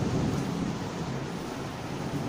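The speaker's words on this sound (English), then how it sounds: "this is a lightning storm that's happening in Colombo" Thunderstorm in Colombo heard as a dense, steady roar of heavy rain and rumbling, broadband and constant throughout with no distinct separate claps, no talk.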